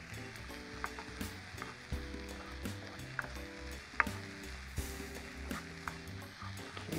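Food sizzling gently in a pan in a kitchen while being stirred every so often, a quiet steady fry broken by small clicks and scrapes of the utensil against the pan.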